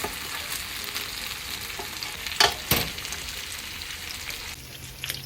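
BBQ ribs sizzle steadily in a hot pan, a constant crackling hiss with a couple of sharp scraping clatters as the meat is flipped over.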